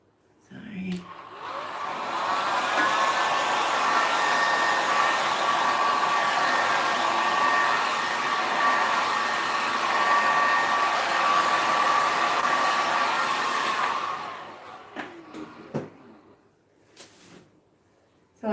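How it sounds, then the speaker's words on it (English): Heat gun on low setting blowing over alcohol inks on Yupo paper, a steady whirring blower hum with a faint whine, switching on near the start and cutting off near the end, followed by light handling clicks. "now I'm going to be using my heat gun through this, just on low heat, low blow, low heat, low blow."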